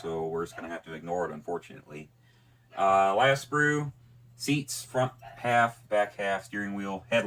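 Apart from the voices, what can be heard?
No everyday noise stands out behind the speech.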